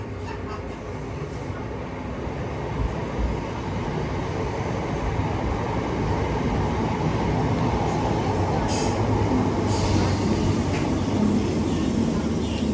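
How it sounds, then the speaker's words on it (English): A Class B19 train pulling into St Helens Junction station, a steady loud rumble of wheels and carriages rolling in continuously, with brief higher squeals and clatters partway through. "Next train to arrive is class B19 going to Manchester Victoria."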